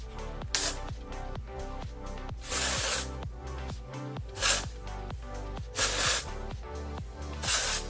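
Dry shampoo hisses from an aerosol can onto hair in several short bursts and longer sprays of varying length, close and fairly loud.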